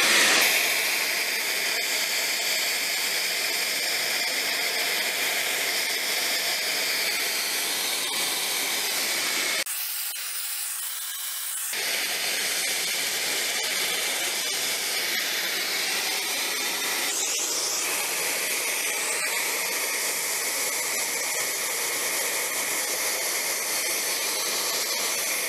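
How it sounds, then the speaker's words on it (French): A cordless drill bores into plasterboard while a Karcher dust collector draws away the debris, giving a loud, steady whirring hiss that stops briefly partway through and then resumes. "Maintenant, on va prendre la visseuse et je vais vous percer un trou."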